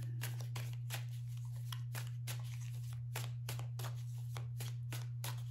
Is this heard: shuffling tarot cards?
yes